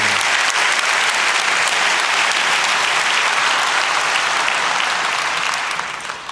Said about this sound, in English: Give a warm hand of applause to Mr. Stephen Ridley.